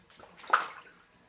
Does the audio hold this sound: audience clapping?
no